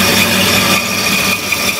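Bandsaw cutting a thin slice off burl timber, a steady loud motor hum with a sustained whining tone and the grind of the blade running through the wood, continuous and close, with no talking.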